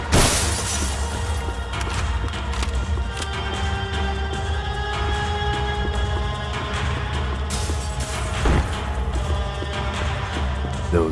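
Loose ceiling tiles in Max Payne 3 are shot down and crash in a loud, sustained clatter of breaking and falling debris, with a few sharper impacts standing out over a dense roar of game noise.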